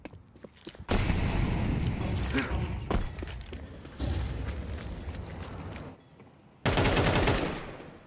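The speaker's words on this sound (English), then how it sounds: "Early shots from Dash." Rapid gunfire bursts from a Counter-Strike match during an ESEA Main playoff game, loud dense volleys filling most of the stretch with a brief lull before another sharp burst near the end.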